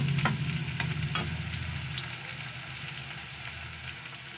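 Chopped onion sizzles in hot oil over fried garlic for baingan bharta, a loud close hiss with a few quick spatula scrapes early on, then steady frying.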